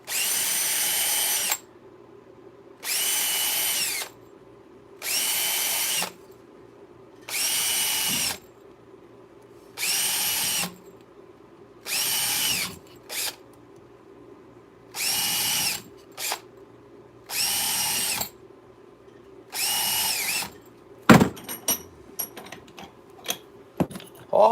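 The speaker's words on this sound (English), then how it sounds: "let's drill a couple holes in these." A power drill bores holes in 4-foot layout bases, running in about ten loud, even bursts of a second or two each with brief pauses between, followed by clattering and knocking as the pieces are handled.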